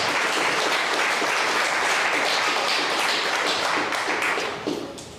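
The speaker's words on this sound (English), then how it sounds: "Can we get a round of applause for that?" A live audience claps in a loud, dense round of applause that holds steady for several seconds, then thins and fades near the end, with no talk over it.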